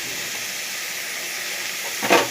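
Vegetables stirred in a hot frying pan with ginger, onion and garlic paste, salt, turmeric and pepper powder give a steady close sizzle, with a brief louder scrape of stirring at the end.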